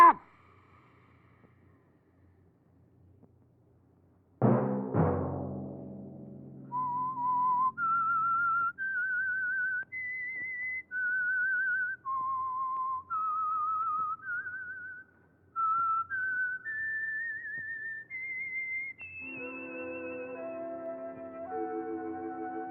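A melodic whistled tune from the 1950 radio program The Whistler, clear sliding notes in a steady sequence, joined midway by orchestral music swelling beneath it.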